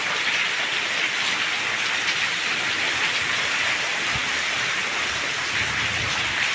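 Heavy, sudden rain pours down in a thunderstorm, a dense, steady, loud hiss that fills the whole stretch with no pauses, close at hand.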